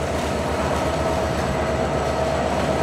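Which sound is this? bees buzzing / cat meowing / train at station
train at station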